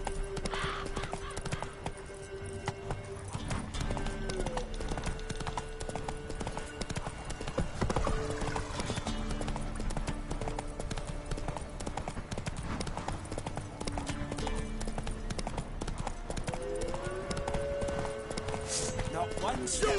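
A horse gallops in The Witcher 3 video game, its hooves beating in rapid continuous clip-clop rhythm for twenty seconds, with music and occasional speech layered over it.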